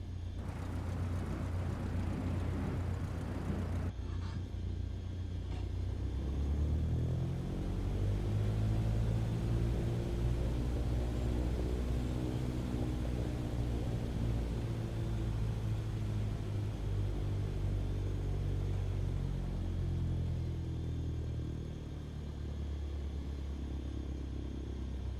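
An airplane taxiing toward a holding point in Microsoft Flight Simulator 2020, heard as a steady, loud engine hum and low rumble with a rising and falling whine that goes on throughout, with no talk.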